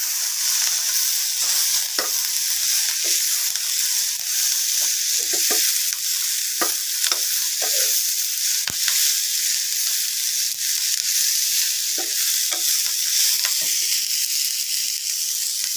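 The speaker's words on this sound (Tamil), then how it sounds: "இதை நல்லா வதக்கிக்கலாம்." A mixture with asafoetida and a gooseberry-sized lump of tamarind sautéing in a pan for paruppu adai dosa, a steady sizzle broken by scattered spatula scrapes and taps, close and even, with no talk.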